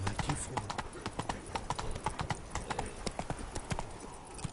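Hooves of a horse in The Witcher 3: Wild Hunt, Blood and Wine, clip-clop steadily in a quick, even rhythm, close and prominent throughout, with a brief voice early on.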